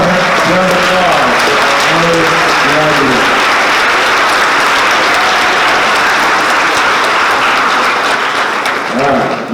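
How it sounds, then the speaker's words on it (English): A gym-sized crowd at a high school awards assembly claps in a long, sustained round of applause; a voice talks over the start, and then the clapping carries on alone before tapering near the end. "One more round of applause"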